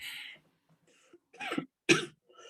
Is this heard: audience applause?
no